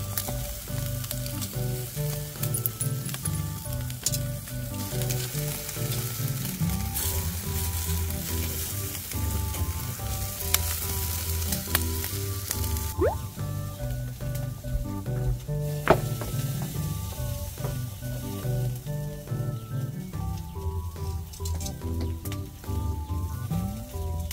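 Meat sizzles loudly and continuously on a barbecue grill on an outdoor patio, a dense crackling hiss with occasional scraping and stirring from tongs, and no one talks.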